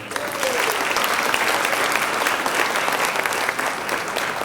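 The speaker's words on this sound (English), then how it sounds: "Give a round of applause" A large crowd claps loudly and continuously at a Brooklyn State of the Borough address, a dense, even roar of applause with a few faint voices mixed in.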